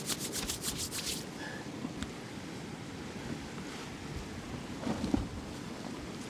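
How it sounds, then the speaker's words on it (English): Gusty wind blows around a Hilleberg Unna tent in the Alps as a continuous rushing roar, with brief flaps and rattles near the start and middle. "It's getting pretty gusty."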